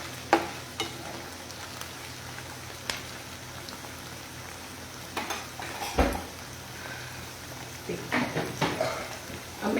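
Vegetables frying in a pan on the stove, a quiet steady sizzle broken by scattered clinks and scrapes of stirring.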